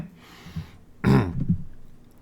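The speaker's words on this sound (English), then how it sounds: "Sorry, cough came out of nowhere." A single sharp, close cough from one person, preceded by a soft throat clear and a short breathy tail, alone without talk.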